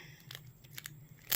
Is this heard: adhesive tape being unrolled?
yes